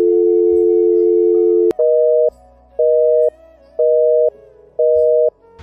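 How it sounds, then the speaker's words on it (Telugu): A phone busy signal inside the GTA 5 video game starts with one long steady tone, then repeats short electronic beeps at an even pace, loud and clear with no voices. "బిజీ వస్తుంది ఏంటబ్బా"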